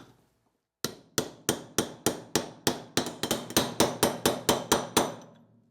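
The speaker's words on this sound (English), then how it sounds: "Now set the CV ball in place and use a socket to tap it in." A socket is tapped against a CV ball to seat it in a Ford Bronco double cardan driveshaft, making about fifteen sharp metallic strikes in a steady rhythm close to the mic, with silence before the first blow.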